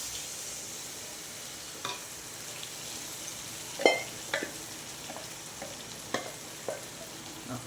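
Eggs, about ten of them, frying in a pan over roasted drumstick leaves give a steady soft sizzle, broken by a few sharp clinks and scrapes of a spoon on the pan, with no talking.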